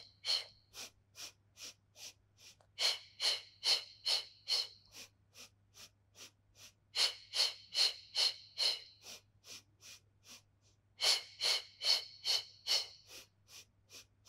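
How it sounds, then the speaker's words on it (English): During a Pilates core exercise, sharp rhythmic exhalations come in quick bursts of several pulses with short pauses between them, close and clear over a faint steady hum. "In breath, exhale."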